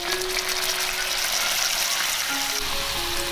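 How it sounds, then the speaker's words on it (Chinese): Hot water poured into a flat pan where lotus-root dumplings stuffed with minced meat fry in a little oil, giving a loud, steady sizzle with a gushing hiss near the end. "煎到两面金黄，再淋入少许开水，"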